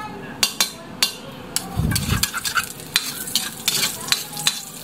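Ginger sizzles in a hot pan at the start of cooking dinuguan, with a sharp spatula scraping and clacking against the pan in irregular strokes and a brief louder burst of frying.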